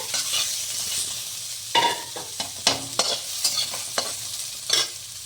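Onions being stirred in a little oil in a pan where fish was fried, with a soft continuous sizzle broken by repeated scraping strokes of the spoon, close and moderately loud.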